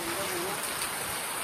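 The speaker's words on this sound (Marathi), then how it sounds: "खूप पाऊस आहे" Heavy rain pours steadily on a farm, a dense continuous hiss close by with no pauses.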